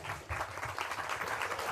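An audience at a French commemorative lecture breaks into steady, dense applause, a continuous wash of many hands clapping with no voices over it.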